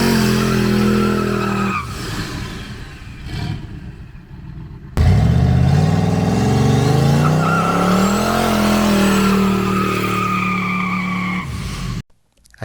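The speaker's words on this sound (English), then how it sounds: "I stopped and made a no burnout test hit down a crappy road." A no-prep turbocharged Ford Fairmont drag car launching without a burnout down a rough, dusty road, a brief rev then a loud sustained engine pull rising in pitch with tire noise, cutting off abruptly near the end.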